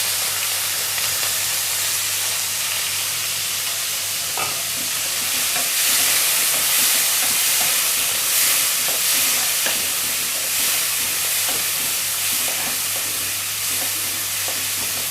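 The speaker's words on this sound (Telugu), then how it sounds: "ఉల్లిపాయలు ఫ్రై అయ్యే వరకు వేయించుకుందాం." Onions and green chillies with curry leaves fry in a pan, a loud, continuous close-up sizzle and hiss with soft stirring scrapes running throughout.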